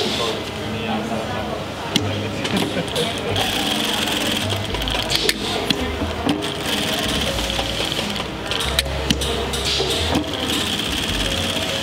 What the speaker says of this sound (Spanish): Ahora se cose nuestra etiqueta en la parte trasera.